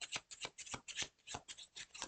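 A deck of tarot reading cards is shuffled by hand, giving about eight quick papery riffling bursts in a steady rhythm, close and fairly quiet with no talking.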